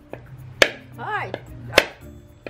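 A coconut shell struck hard to crack it open, two sharp loud cracking hits about a second apart with lighter taps between, and a brief voice exclamation in the middle.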